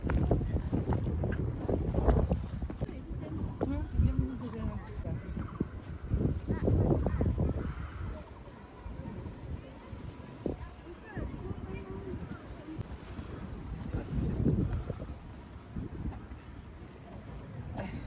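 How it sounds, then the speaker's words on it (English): Gusty wind on a hilltop in Taipei buffets the microphone in low rumbling bursts, with voices talking intermittently underneath. "It's windy up here."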